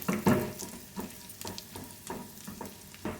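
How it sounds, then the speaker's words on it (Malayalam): Thinly sliced almonds fry in a pan for an apple trifle, giving a close, steady sizzle with rhythmic stirring scrapes every half second or so. "ആൽമണ്ട് ചേർത്ത് ഒരു 30 സെക്കൻഡ് നമുക്കൊന്ന് ഫ്രൈ ചെയ്തെടുക്കാം"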